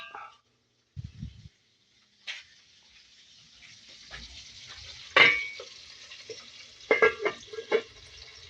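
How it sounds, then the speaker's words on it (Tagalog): Cooking oil spits and sizzles in a hot pan: a steady, close hiss with scattered sharp pops and crackles, a louder burst midway, and a few low knocks of the pan. No one speaks. "Matalsik yung mantika."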